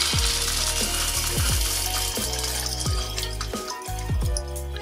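A Compact Cook food processor running at high speed, a loud steady whir with repeated rhythmic clunks and rattles of ingredients being mixed, close and alone.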